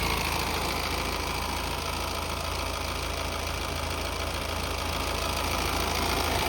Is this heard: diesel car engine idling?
yes